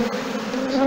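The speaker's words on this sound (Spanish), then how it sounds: "Ahí van las abejas ya, todas ocupando cada una su sitio." Honeybee swarm buzzing as it moves from a nucleus box into its permanent hive, a dense, loud, continuous hum heard close by.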